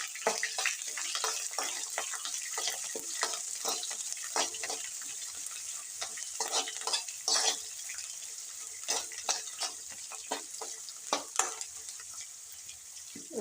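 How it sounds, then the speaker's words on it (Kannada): Chopped onions sizzle and crackle in hot oil in a pan while being stirred for chitranna, a South Indian lemon rice, giving a steady close frying hiss with scraping spoon strokes and no talking. "ಈರುಳ್ಳಿ ಹಾಕ್ತೀನಿ. ಈಗ ಇದನ್ನು ಮಿಕ್ಸ್ ಮಾಡ್ತೀನಿ."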